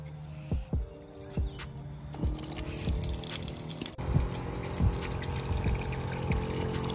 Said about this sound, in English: This switch here is actually a water pump that's inside this wing,